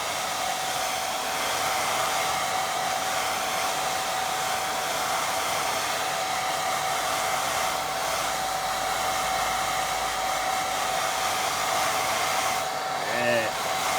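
A hair dryer blows on watercolour paint in a long, steady, close whoosh with a constant high whine, running unbroken and briefly shifting pitch near the end.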